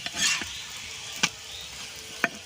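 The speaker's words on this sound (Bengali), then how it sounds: "আবার উল্টে এই পিঠটা সুন্দর করে ভেজে নেবো" Paratha made from flour dough frying in a pan, giving a steady hiss with a few sharp clicks and scrapes of a utensil against the pan.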